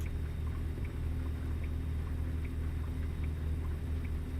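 Low, steady engine drone from a truck pulling uphill in sixth gear at around 1100 rpm in American Truck Simulator, a continuous heavy rumble with no talk over it.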